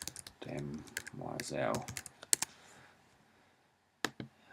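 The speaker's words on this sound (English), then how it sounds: "for the moment I'm just going to type in a taxon banded" A species name is typed on a computer keyboard, quick bursts of clicky keystrokes close by, interleaved with someone speaking and followed by a pause and a final few taps.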